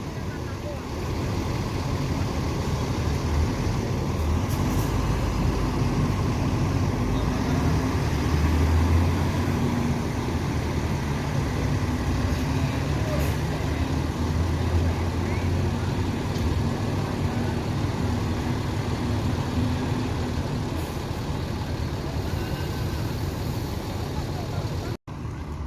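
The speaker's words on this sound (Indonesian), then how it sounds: "bus NVM Frekansa 18 keluar terminal Barai Solo" An NVM intercity bus, Frekansa 18, pulls out of the Barai Solo bus terminal with a steady low engine rumble that persists throughout, amid faint background voices and station noise.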